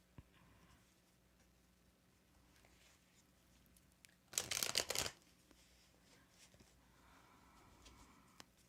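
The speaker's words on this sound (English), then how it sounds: "Kayla, I am shuffling to pull a card for you right now." Tarot cards shuffled by hand in a quiet room: one brisk, close riffle lasting about a second, with faint handling noises before and after.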